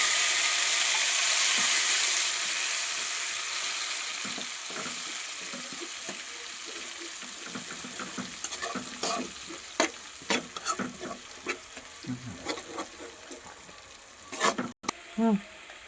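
Onion-tomato gravy hits hot oil in a pan with a loud, hissing sizzle that gradually settles into softer bubbling and intermittent stirring clicks, with no voice over it.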